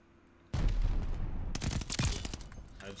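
Volk assault rifle fired in Call of Duty: Vanguard, loud, close bursts of rapid automatic gunfire that begin sharply, pause briefly, then resume in a dense fusillade with echoing cracks.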